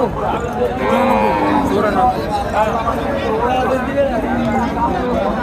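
Pregnant cows at the Sonaichandi cattle market in Chapainawabganj low with long moos over continuous crowd babble and nearby talking, with a loud, dense market atmosphere throughout.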